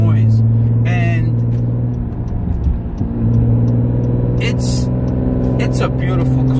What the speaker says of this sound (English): you can hear like the wastegates growling, the blow-off valve, the downpipe making the noise